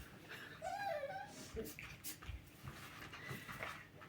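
Dogs whine and yip in agitation over a large plush toy horse, close and fairly loud, with their excited whimpers mixing with light talk nearby.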